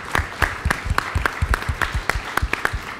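Applause from a business event audience on cannabis brands, heard as loose, distinct claps in an uneven rhythm, fairly sparse and moderately close, with no talk over it.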